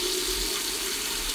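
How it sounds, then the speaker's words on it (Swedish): Water runs in a steady, full hiss from a newly installed kitchen mixer tap, loud and close, continuous for the whole moment with no talking. "Och nu ska vi egentligen bara slå på vatten."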